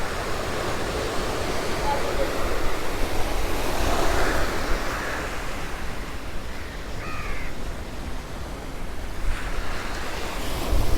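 Ocean waves at Chaitya Bhoomi in Mumbai, a continuous wash of surf and wind across the microphone, with crows cawing now and then in the background.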